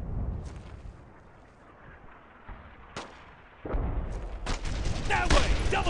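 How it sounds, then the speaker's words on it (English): Bursts of gunfire in a World War II battle from the Brothers in Arms game, sparse shots at first, then loud sustained automatic fire and explosions filling the second half, with faint voices underneath. "I want one of us to get on this MG here and lay down fire."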